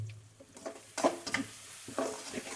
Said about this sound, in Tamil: நல்லா டங்க டங்க டங்க டங்க டங்கன்னு மிக்ஸ் பண்ணிக்கலாம்